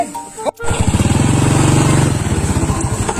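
A motorcycle engine runs steadily and loudly close by, with a pulsing rhythmic drone after a brief start, while people talk over it.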